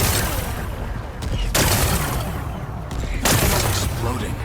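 Rocks blown apart in Horizon Forbidden West: a rumbling, crackling barrage of blasts with two sharp, loud bursts a couple of seconds apart, close and dense.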